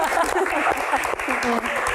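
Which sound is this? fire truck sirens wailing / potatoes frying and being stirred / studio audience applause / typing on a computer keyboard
studio audience applause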